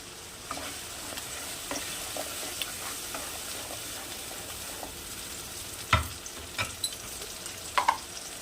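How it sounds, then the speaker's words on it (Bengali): Tomato paste frying in a pan over a raised gas flame, a steady low sizzle with a few sharper stirring scrapes and clicks near the end. "দিয়ে দেবো টমেটো পেস্ট। এবার গ্যাসের ফ্লেমটা আমি বাড়িয়ে দিলাম"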